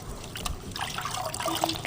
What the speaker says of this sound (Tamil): எண்ணெய் ஊற்றிட்டேன்